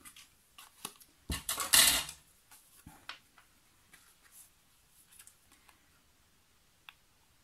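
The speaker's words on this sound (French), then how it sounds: "on met nos carrés les uns derrière les autres et on coupe comme ceci." Scissors snipping through stacked paper squares for a handmade scrapbooking pop-up card, a few crisp cuts then a louder rustling burst of paper being handled, close and quiet with no talk.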